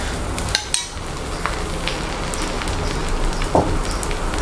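Oil drizzled around a cheese-topped pizza dosa sizzles and crackles steadily on a hot pan, with a few sharper pops and spatters rising above the continuous close hiss.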